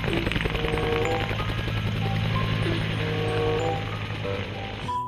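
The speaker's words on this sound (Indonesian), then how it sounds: "Ada helikopter." A steady mechanical drone with rapid, rhythmic chopping and rattling from a radio-controlled helicopter's rotors running close by, loud and continuous throughout.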